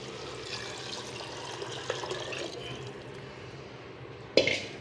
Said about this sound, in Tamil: இப்போ மசாலா ஊற்றிக்கலாம்